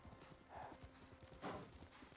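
Horse hooves clip-clopping steadily on the ground in the Ghost of Tsushima video game, a regular rhythmic beat with a brief whinny, fairly close and moderately loud.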